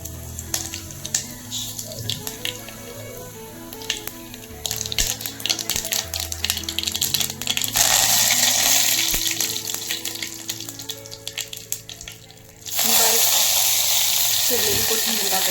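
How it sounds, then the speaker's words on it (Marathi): Cumin, mustard seeds and curry leaves sizzling in hot oil in a small pan for tempering, a steady crackling hiss that swells loud in two stages, with background music underneath. "त्यासाठी एका छोट्याशा पातेल्यात तेल गरम करायला ठेवलं आहे. त्याच्यामध्ये जिरे, मोहरी, कढीपत्ता,"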